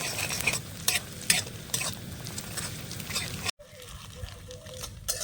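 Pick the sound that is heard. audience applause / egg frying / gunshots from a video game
egg frying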